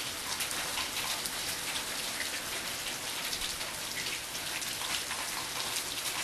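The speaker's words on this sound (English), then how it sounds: "but you can hear the rain." Steady rain falls outside during a power outage, a continuous even hiss of drops on surfaces, moderately close with no voices.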